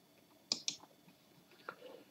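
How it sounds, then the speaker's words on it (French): A computer mouse clicks on a desktop, two sharp quick clicks close together followed by a softer click and faint handling noise, close and quiet. "Je clique sur sélectionner un dossier"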